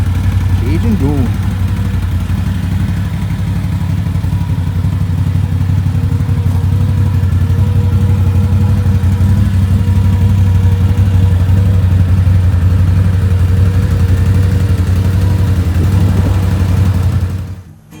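Honda Goldwing motorcycle riding along, with a steady low engine drone and road noise holding loud and close throughout before cutting off abruptly at the end.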